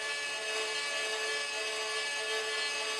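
A hurdy-gurdy drone string sounds a continuous buzzing, scratchy drone that wavers slightly unevenly because the wheel wobbles. The drone is steady and close and fills the whole stretch without pause.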